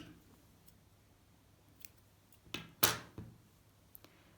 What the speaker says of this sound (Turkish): Şimdi burada ipimi kesiyorum.